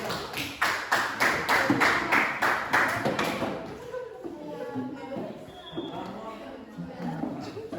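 Group 2 receives applause from a classroom audience, a few seconds of fairly loud, quick claps that stop abruptly, after which people talk quietly.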